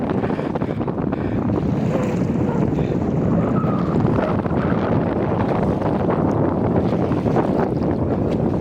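Strong wind buffets the microphone while waves wash and slap against a sailboat crossing the Padma River, a continuous rough roar with no talking.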